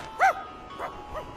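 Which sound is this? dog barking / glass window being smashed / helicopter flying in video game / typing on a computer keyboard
dog barking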